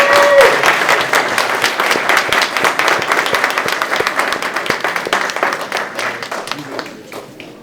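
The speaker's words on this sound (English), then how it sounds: "can we get another round of applause for our" Audience at a racial justice essay and creative arts awards ceremony breaks into applause, sustained clapping that fills the room, strong at first and gradually thinning out toward the end.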